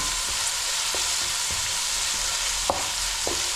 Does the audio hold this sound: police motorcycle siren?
no